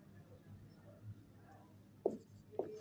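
Pen or pencil writing a number by hand on paper, faint scratchy strokes with a couple of brief sharper scrapes near the end, quiet and close.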